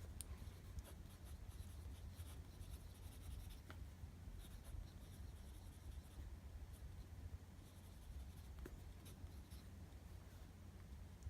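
A Karas Kustoms fountain pen with a broad medium Bock nib scratches softly and continuously across paper, with faint, quiet, close strokes and no talking.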